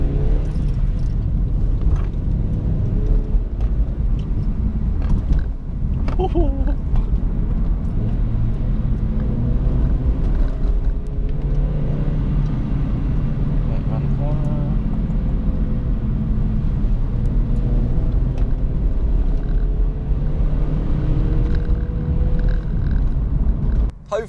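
A Vauxhall Corsa engine drones steadily from inside the car on country roads, a constant low rumble with road noise throughout and no clear revving peaks.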